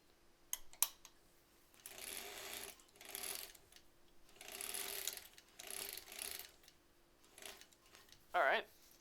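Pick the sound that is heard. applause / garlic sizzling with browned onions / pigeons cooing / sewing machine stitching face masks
sewing machine stitching face masks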